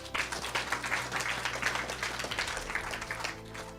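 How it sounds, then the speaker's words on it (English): Audience applause at a live high-ticket sales training event, a steady wash of many hands clapping at moderate volume with a low hum underneath and no talk. "Applause."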